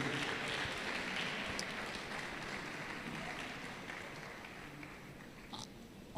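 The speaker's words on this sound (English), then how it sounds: "Can you give her a round of applause again?" Steady audience applause at a tech event, a dense, even patter of many hands clapping that fades slightly over several seconds.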